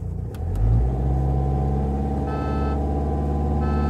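Two cars, a Mahindra XUV500 and a Hyundai Verna, launch off the line in a drag race, engines rising into a loud, steady roar that holds near and continuous throughout.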